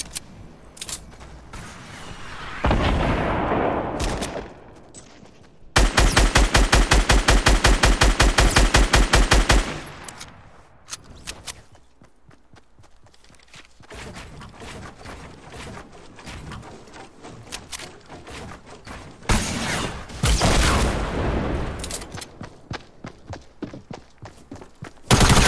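Gunfire in the game Fortnite, with sustained rapid automatic bursts alternating with scattered single shots and quieter gaps, loud and close throughout a long firefight.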